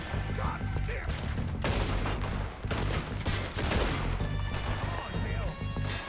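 Gunfire in Red Dead Redemption 2 comes as repeated sharp shots and bursts over a dense, busy game soundscape, with reloading clicks mixed in. It sits at moderate loudness, and a voice talks over parts of it.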